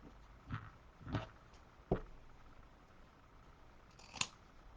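Scissors trimming the end of a ribbon on a Christmas napkin bow, four quiet separate snips spaced about a second apart in a hushed room.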